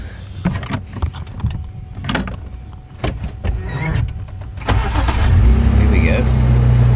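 Safari game-drive vehicle engine cranking and catching after scattered clicks and rustles, then settling into a loud, steady close-up rumble with a rev, with people talking over it.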